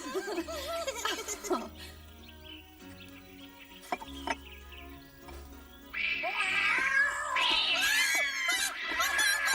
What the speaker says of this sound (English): stop that, you bad cat!